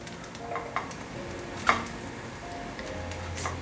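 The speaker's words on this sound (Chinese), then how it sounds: "可以了，继续煎。" A patty of rice and fresh shiitake mushroom fries in a small pan for a vegan breakfast, giving a steady, faint sizzle close by with a few light taps and scrapes. No one speaks.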